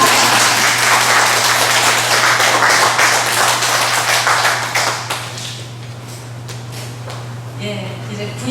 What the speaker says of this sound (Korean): 박수를 치시는 것까지 치시죠.